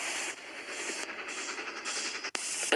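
Three engines rolling into a railway yard, heard as a continuous hissing, rumbling train noise with steam and shifting textures and a brief dip near the end.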